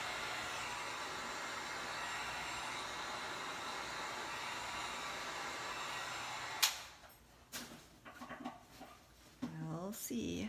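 A heat tool blows a steady, loud whoosh while drying a journal page for about six and a half seconds, then shuts off, followed by handling clatter and a brief voice.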